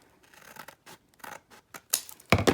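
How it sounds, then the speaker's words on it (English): Scissors cut along the edge of a recycled junk-mail paper envelope, a series of close, scratchy snipping strokes in an uneven rhythm that grow louder toward the end, with no voices. "So I'm going to cut this just a little bit all along the edge of this envelope."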